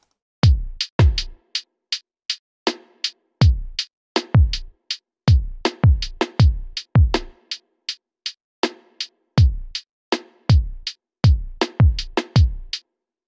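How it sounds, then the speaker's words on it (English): Drum pattern of a recreated beat: booming sub-heavy kicks with crisp snare or clap hits and steady ticking hi-hats in a repeating loop, played clean and loud with no voice. "So here are the drums."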